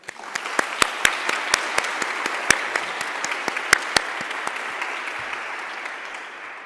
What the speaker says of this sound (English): Maybe we can all applaud now for them.